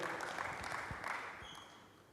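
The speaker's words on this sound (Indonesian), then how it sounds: "Berikan tepuk tangan bagi Tuhan, haleluya" A congregation claps for God during a church service, a faint, diffuse crackle of many hands that fades slightly toward the end.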